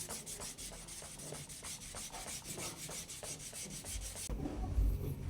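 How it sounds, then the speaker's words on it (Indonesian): Fast rhythmic rubbing of sandpaper against a Lampung badik knife handle, with close, steady strokes for about four seconds before a brief handling thump, no talk. "itulah yang kita bersihkan atau kita amplas kembali, kita gerus"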